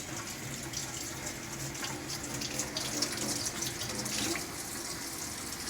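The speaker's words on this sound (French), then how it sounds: "tu iras te laver les mains pendant 20 secondes" Tap water runs steadily into a sink for hand washing at a school, a continuous close splashing rush with no voices.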